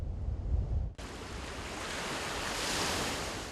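Sea waves breaking on a beach at Dipagidan, a coastal village in northeastern Luzon; a low rumble gives way abruptly to a broad, hissing wash of surf with wind, swelling slightly toward the end.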